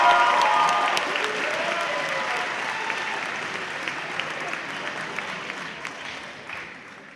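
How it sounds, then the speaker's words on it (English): Audience applause at a Year 12 school awards ceremony: a full room of steady clapping that starts loud and settles into a sustained, even patter over seven seconds. "Let's give Jacob another round of applause."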